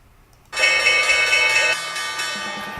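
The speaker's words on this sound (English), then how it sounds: "That's heavyweight champion Deontay Wilder ringing the closing bell at the New York Stock Exchange Wednesday" The New York Stock Exchange closing bell rings out loud and sustained, clanging continuously from about half a second in and holding steady to the end with no speech over it.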